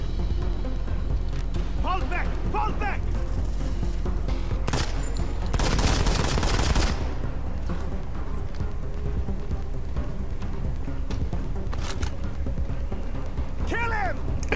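Gunfire in the mobile shooter Modern Combat 5: Blackout, with a dense burst of shots near the middle, scattered single cracks around it and a steady game background underneath, while someone talks over the action.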